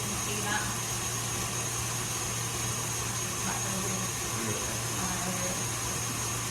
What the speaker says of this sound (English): I'll just give it about 2 minutes just to whisk on its own first.